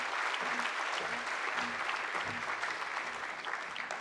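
Sustained audience applause at a university NAIDOC Week keynote lecture, a steady, even wash of many hands clapping throughout, moderately distant, with no speech over it.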